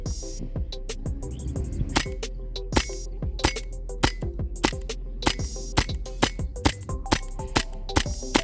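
A WE I-REX gas blowback airsoft pistol with a 6-inch barrel fires repeatedly at a glass bottle, a rapid string of sharp, close cracks with pneumatic snaps and ringing impacts, spaced irregularly through a full magazine, without speech.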